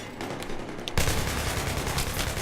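AKS-74U carbine firing in Battlefield 3, a shortened AK-74 firing rifle rounds: after a second of quieter ambience, a loud, sustained burst of automatic fire rattles on close and dense to the end.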